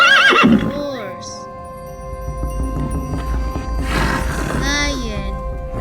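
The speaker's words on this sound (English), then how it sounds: "Horse." A horse whinnies loudly twice, near and clear, with descending neighs at the start and again toward the end, over a steady low background hum.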